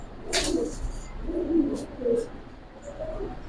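A pair of Giribaz pigeons gives soft, low coos in short separated bursts, close by, alongside a brief rustle or flutter near the start.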